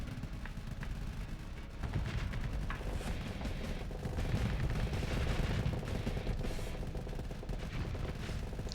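Space warships in Starsector pour sustained weapons fire onto a Dominator-class ship, a dense continuous rumble of overlapping shots and impacts that holds steady and fairly loud throughout.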